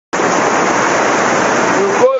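Floodwater from heavy morning rain in Jaguaquara, Bahia rushes down a steep church street as a loud, dense, continuous roar close by, which cuts off sharply near the end.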